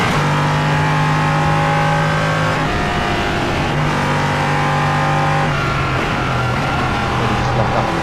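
Race car engine in the iRacing sim holds loud sustained harmonic tones that shift pitch around the moments the brakes lock up, with the engine note dropping and recovering, continuous and close with no talking.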